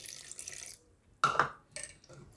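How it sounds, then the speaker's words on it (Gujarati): Half a cup of water poured into sweet pudla batter in a couple of short splashy pours, close and fairly quiet. "હવે આપણે જે બીજો અડધો કપ પાણી વધ્યું હતું એ આપણામાં નાખશું"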